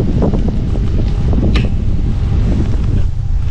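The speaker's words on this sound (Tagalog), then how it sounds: "Hangin, no?" Strong wind at Sampaloc Lake buffets the microphone in a steady, loud roar with low rumbling gusts; no one speaks.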